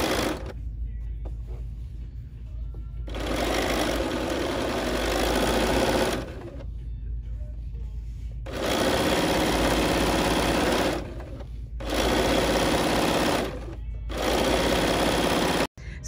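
A sewing machine stitches a 5/8-inch seam on a blouse in several bursts of fast, rattling needle motion, separated by short pauses, close and loud with a steady low hum underneath.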